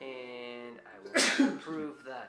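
A sneeze bursts out loudly in the middle of a tabletop role-playing session, a single sharp explosive blast landing between stretches of people talking.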